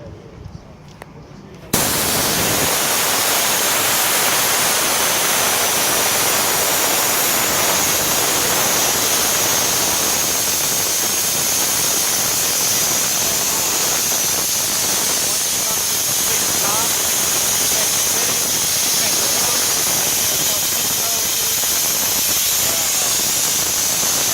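Water drains from a tank in a steady, loud rushing hiss that starts abruptly after a short quiet moment and keeps going unchanged to the end.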